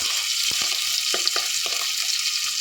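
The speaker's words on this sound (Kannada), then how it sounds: "ಈ ಸಾಸಿವೆ ಜೀರಿಗೆ ಚಟ್ಪಟ ಅಂದ ತಕ್ಷಣ" Mustard seeds and cumin splutter in hot oil with curry leaves, a loud, close, continuous sizzle dotted with sharp popping crackles and stirring knocks.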